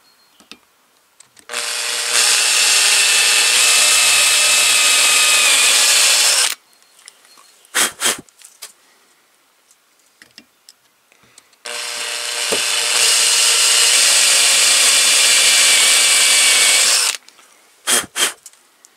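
Power drill fitted with a 5.5 mm bit boring into an old door laid flat, two steady loud bursts of about five seconds each, with short clunks and handling knocks between them and no talking.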